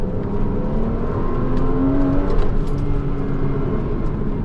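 A Porsche Cayman S engine pulls steadily on a damp road, a continuous close drone that swells slightly mid-way, with no voices.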